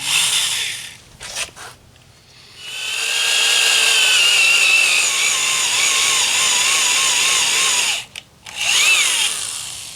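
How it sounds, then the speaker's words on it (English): A hand drill bores through thick locomotive steel, widening a pilot hole, with a loud sustained whining grind that runs for several seconds between short pauses and restarts, alone without talk. "So this is cutting really fast now that you had that primary hole in there."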